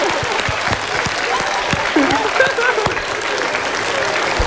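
A studio audience applauds Pak Rudi at an Indonesian motivational talk show, steady dense clapping filling the room throughout with a voice speaking over it partway through.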